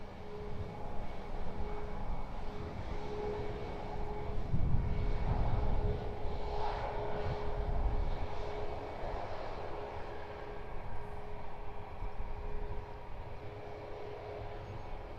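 A Ryanair jet in Malta Air livery taxis at Edinburgh Airport, its engines a steady low rumble and whine that swells slightly midway, heard from a distance with no voices.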